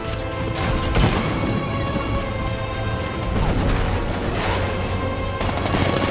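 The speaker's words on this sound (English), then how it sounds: "60mm cannon operational." The Batmobile's 60mm cannon fires in Batman: Arkham Knight, a dense run of loud, booming blasts and crashes that overlap without a break.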